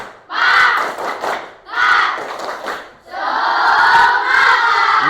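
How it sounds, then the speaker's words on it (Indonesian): A primary school class in an Islamic studies lesson does a rhythmic spirit clap, with children's voices chanting and clapping together in three loud group bursts, the last one longer and sustained. "marilah kita untuk bertepuk semangat terlebih dahulu."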